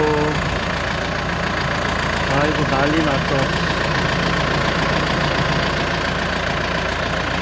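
A steady tractor engine idles throughout at a constant loud level, with a person talking over it partway through.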